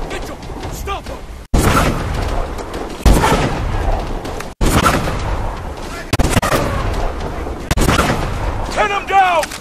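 Heavy gunfire in the Call of Duty: Advanced Warfare 'Crash' mission: loud, dense bursts of rifle fire and booming blasts crowd the scene, with shouted voices mixed in.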